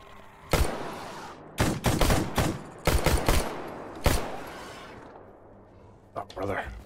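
Gunfire in the video game S.T.A.L.K.E.R. GAMMA: loud, close shots in scattered single cracks and quick clustered volleys with pauses between them, alongside voices talking in the background.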